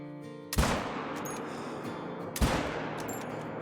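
Two loud rifle shots in the Call of the Wild hunting game, fired at a piebald red deer stag, each a sharp crack followed by a long rolling echo, spaced about two seconds apart with no talking.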